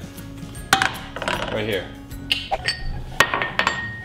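A frying pan and other cookware being handled while making grilled cheese, giving sharp metallic clinks and clanks, several close knocks spread across the span, with someone talking over them.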